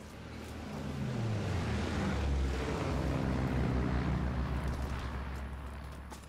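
An enemy recon aircraft in Call of Duty WW2 passing overhead, a low propeller drone that swells in from quiet, peaks loudly in the middle and fades slightly toward the end.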